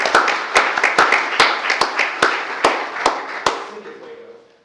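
Audience applause at an awards-style business session, a dense wash of clapping punctuated by sharp individual claps, sustained and fairly loud before tapering off at the end.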